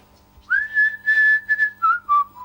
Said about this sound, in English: I didn't know you were that good at whistling.